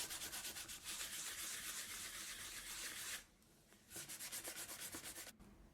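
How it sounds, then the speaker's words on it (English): Leather bracers in a Warhammer 40k cathedral style rubbed with 1000 grit sandpaper to lift dye for highlights: close, rapid rhythmic scratchy strokes in two long bursts separated by a short pause, with no voice. "With some 1000 grit sandpaper we can remove some of the dye and create a few highlights."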